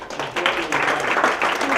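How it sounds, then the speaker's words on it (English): A round of applause from a business lecture audience, steady and fairly loud, with some voices mixed in. "One more big round of applause."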